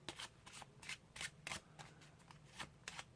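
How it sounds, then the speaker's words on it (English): A deck of playing cards is shuffled in quick, crisp riffles and flicks, close and quiet, about ten short bursts in an irregular rhythm. "So again, you shuffle, keeping that card on the bottom."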